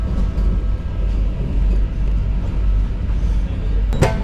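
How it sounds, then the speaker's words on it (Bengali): Inside the 20871 Vande Bharat Express as it rolls slowly toward the Kolaghat bridge, a loud, steady low rumble of wheels and carriage fills the scene, with a brief sharp squeal near the end. "আবার আস্তে আস্তে কোলাঘাট ব্রিজের দিকে এগোচ্ছে আমাদের ট্রেন।"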